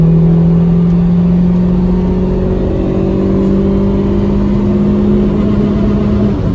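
A car engine fitted with a performance air filter hums loudly and steadily with a rising whine, as if revving up under acceleration, close and continuous throughout.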